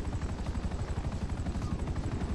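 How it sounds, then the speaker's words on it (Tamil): A helicopter in the video game GTA 5 thumps with a steady, rapid rotor beat, loud and close, its pulsing chop continuing evenly throughout without talk. "helicopter sound be silent"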